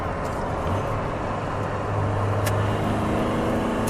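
A 1995 Mazda Miata NA on an acceleration pull, its engine a steady hum heard from inside the car with a rising tone partway through, moderately loud and unbroken, with no one speaking.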